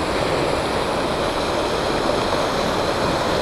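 A flooded river rushes past in a loud, steady, broadband roar like crashing surf, heard up close with no pauses or voices.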